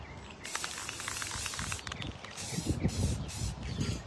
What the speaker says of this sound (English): all I do is just give it a spray